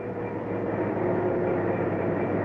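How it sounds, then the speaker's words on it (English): Chicago freight train rolling along the track, a steady close rumble with continuous wheel and rail noise and no voices. "Now the Chicago freight can follow the fast passenger train on the same track."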